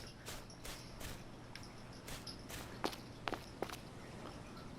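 Footsteps in the survival game Stranded Deep, a character treading cautiously: about a dozen soft, evenly spaced steps, close and fairly quiet, over a faint insect-like background hum.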